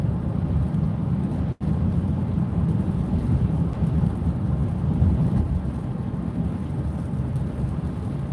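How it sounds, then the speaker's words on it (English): Steady rain pouring outdoors on an island trip, a dense continuous hiss with low rumbling that suggests distant thunder, constant and fairly loud throughout, with no talk. "It's raining more."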